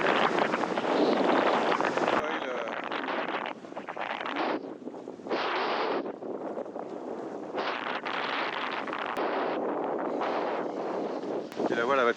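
Strong wind rushes over the microphone while wingfoiling on open water with a 4.5 to 5 square metre wing, roaring in gusty bursts that cut out and return, with water noise beneath.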